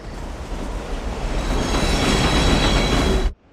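A subway train from the video game The Warriors rumbles past loudly and steadily, its broadband roar carrying faint wheel squeals and rail clatter before cutting off abruptly at the end.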